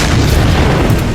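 Heavy boom from an air strike on Sanaa, the capital of Yemen, a loud low rumbling blast that fills the whole short moment with dense, sustained low-end roar.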